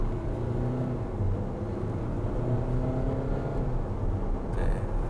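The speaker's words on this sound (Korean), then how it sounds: "급가속을 해보도록 하겠습니다." Chevrolet Equinox 1.6 diesel AWD under hard acceleration, a steady low engine drone and road rumble heard from inside the cabin, even and moderately loud with no clear rise in pitch.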